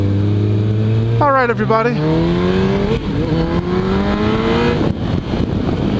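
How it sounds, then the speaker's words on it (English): A 2013 Kawasaki Ninja ZX14R motorcycle being ridden, engine droning then revving up with rising pitch through the gears, close and loud, with a rider speaking briefly. "today I am riding my good buddy Rob's 2013 ZX14R for the first time"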